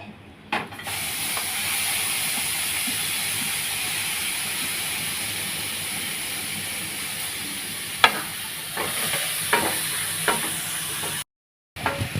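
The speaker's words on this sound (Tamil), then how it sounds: "பாவக்காயை போட்டு இப்போ நல்லா நம்ம இதுவுமே ட்ரையாக தான் வறுக்கணும்" Bitter gourd dry-roasting in a pan gives a steady, loud sizzling hiss with occasional crackles and the scrape of stirring, close by, which cuts out briefly near the end.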